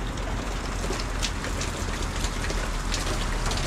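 Steady rain pours down outdoors at a roadside food cart spot on a city street, a dense unbroken hiss of drops beating on surfaces, loud and continuous throughout with no voices.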